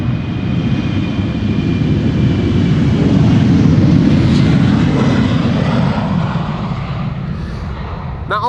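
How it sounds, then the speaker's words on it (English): An Embraer 190 passenger jet takes off at Amsterdam Schiphol Airport with a loud, sustained engine roar that stays close and strong throughout, swelling slightly in the middle, and no talk over it. "The next airplane already taking off."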